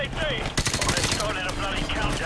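Rapid automatic gunfire in a Modern Warfare video game campaign, a burst of sharp cracks and rattling shots over a noisy battle background, with game sounds continuing around it.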